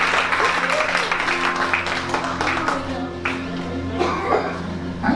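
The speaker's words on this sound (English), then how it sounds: "Let's clap our hands and praise God." Audience at a Dubai miracle festival clapping hands in praise, a steady patter of applause mixed with voices and a sustained musical tone underneath, moderately loud.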